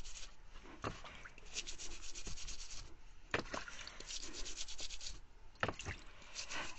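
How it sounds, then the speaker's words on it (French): A stiff brush scrubs yacon tubers with a little water, making rhythmic rasping strokes in irregular bursts, close and fairly quiet, with no talking. "on prend un peu d'eau, on prend une brosse assez dure."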